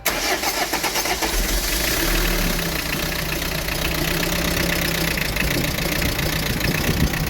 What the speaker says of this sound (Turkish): Araba patır patır tekliyor.